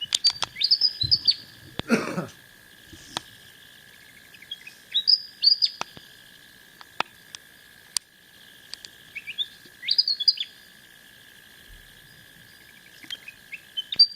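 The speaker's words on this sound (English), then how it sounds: "We got the birds twerping" Birds chirping in an Australian sanctuary, short bright bursts of tweets coming in clusters every few seconds over a quiet background with a steady faint hum, a few sharp clicks and a brief knock.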